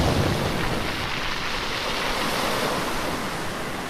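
Sea waves crash and wash in a continuous, loud roar with wind noise, as a man jumps into the sea, with no voices.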